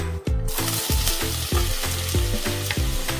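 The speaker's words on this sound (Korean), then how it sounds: "팬에 기름을 두르고 재료들을 볶아줍니다." Vegetables such as potato, onion and squash stir-frying in oil in a pan, a loud sizzle broken by regular scraping strokes about twice a second, close and rhythmic, with no talking.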